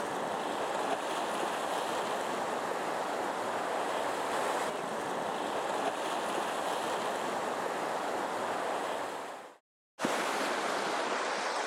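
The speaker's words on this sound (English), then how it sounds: "Just waiting for the waves to come out." Sea waves wash in a steady roar along the Jersey coast, mixed with gusty wind buffeting the microphone; the sound drops out briefly near the end, then returns.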